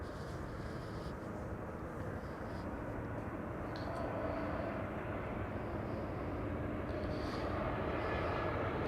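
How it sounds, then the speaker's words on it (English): An Embraer 190 airliner lands at Amsterdam Schiphol, a steady broad engine roar and wind rush that holds nearly level and swells slightly toward the end, heard from a distance outdoors. "Embraer 190 arriving from Humberside is landing here. That's what you're hearing."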